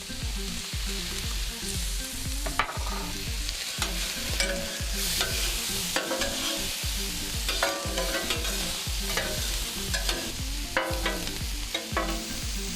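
Sausages fry on a hot plancha griddle for rougail, giving a steady close sizzle broken by repeated scraping and stirring strokes of a utensil, with no talking.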